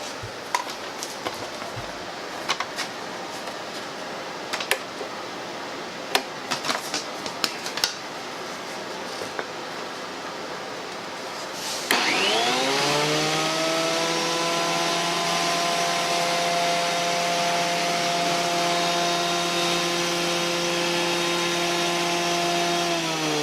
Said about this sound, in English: we're going to pass them through the planer until we reach our